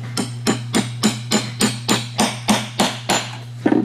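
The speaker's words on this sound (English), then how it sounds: "You grab a hammer and you put it right in the 45 like this," A hammer sets a nail into a 45-degree cut on a wooden birdseye camera mount, about eight sharp, evenly spaced blows ringing close and loud over a steady low hum, with no talk.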